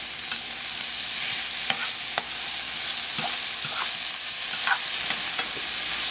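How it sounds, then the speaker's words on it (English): Frittata eggs and vegetables cook in a frying pan with a steady, close sizzle, broken by a few soft clicks of a utensil against the pan. "We're going to put in our eggs, and we're going to let it cook."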